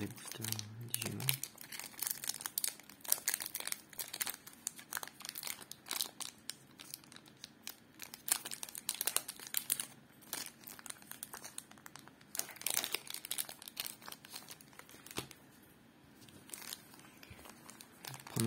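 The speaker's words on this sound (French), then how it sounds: "Mais ils sont pas évidents à ouvrir les boosters Digimon." Digimon card booster packs (BT10 Xros Encounter, BT11 Dimensional Phase) being torn open, with close, sharp bursts of foil wrapper crinkling and tearing running throughout, under occasional talk.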